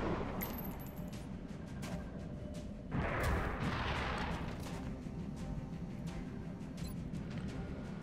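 Gunfire bursts in the video game XCOM Enemy Within as a reaction shot is taken, a dense crackling volley with a louder boom near the midpoint, steady and close over continuous game noise.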